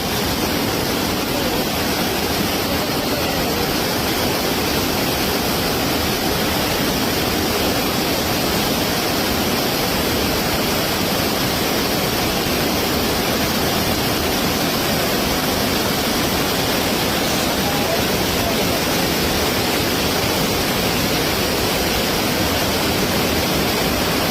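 Rushing flash floodwater coming down from the hills and rising steadily pours with a loud, unbroken roar, steady and close throughout.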